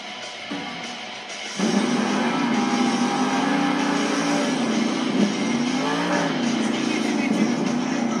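The Scooby-Doo monster truck revs its engine inside an arena at a Monster Jam event, a loud continuous roar that rises and wavers, with the motor note climbing and dipping under crowd and announcer noise.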